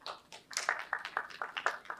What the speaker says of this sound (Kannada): ನಾವು ಎಲ್ರೂ ನಿಜವಾಗ್ಲೂ ಒಂದು ಚಪ್ಪಾಳೆ ಹೊಡಿಬೇಕು.